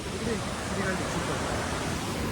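A broad, steady roar of water rushes from the Chas Kaman dam during the monsoon, continuous and full, with a voice faintly present beneath the noise.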